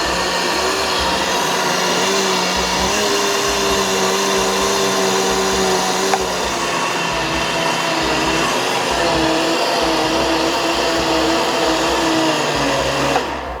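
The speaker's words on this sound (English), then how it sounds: "So as you blend, keep adding the speed so that they can be blended well, right?" A kitchen blender runs continuously while blending plant-based milk, a loud, close whirring motor hum whose pitch steps up as the speed is raised, then cuts off at the end.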